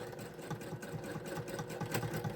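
A sewing machine double-stitching the seam of a pouch makeup bag, a steady fast mechanical whir with a faint even rhythm, close and quiet, with no talk.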